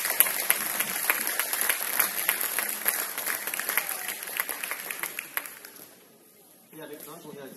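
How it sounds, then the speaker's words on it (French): Applause for handball players from an audience at a coaching session: a crowd claps steadily for several seconds, then fades out, and a voice speaks briefly at the end. "On peut les applaudir"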